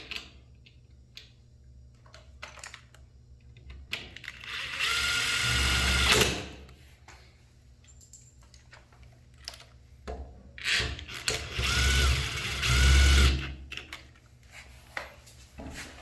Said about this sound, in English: Now install the screws.